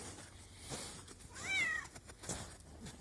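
A cat meows once, close by, a short rising-and-falling cry over a low background hiss, with faint rustling before and after.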